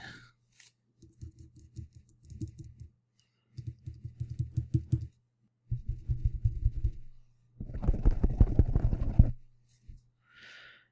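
Four bursts of rapid, close tapping, like fingertips drumming on a hard surface, each run lasting a second or two, getting louder toward the end.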